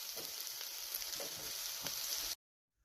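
Fresh garden Swiss chard sautéing in a pan gives a steady close sizzle with soft crackles and stirring scrapes, then cuts off abruptly.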